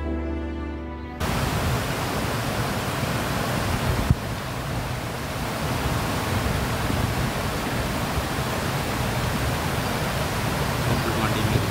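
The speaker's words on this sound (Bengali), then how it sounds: "মরগুমা ড্যামের জল নিচে নেমে চলেছে।" Water pours down from Murguma dam in Purulia's Ajodhya Hills, a broad, steady rushing roar that starts abruptly and then continues loud and unbroken.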